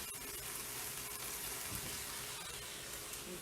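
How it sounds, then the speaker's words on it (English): Chicken cooking juices from sticky garlic ginger chicken poured off into a small oil jar, giving a steady close splashing trickle of liquid with faint kitchen clatter throughout. "Pour this off into my jar."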